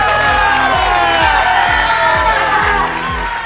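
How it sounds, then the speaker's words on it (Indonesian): Children at a Sunday school clapping and cheering, a dense, loud, continuous burst of crowd voices and shouts held throughout over a steady, repeating beat. "Tepuk tangan buat Tuhan kita, katakan haleluya."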